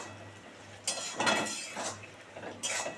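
Metal lid lifted off a covered pot of curry for kachori after five minutes of simmering, giving a few short clanks and clinks spread across a few seconds, moderately close in a quiet kitchen with a low hum underneath.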